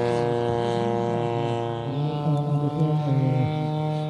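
A giant scale RC model aircraft with a 200cc petrol engine, reduction unit and large 1.1 by 0.9 metre pitch propeller drones loudly and steadily nearby, its deep buzzing tone wavering slightly as it passes at an airshow.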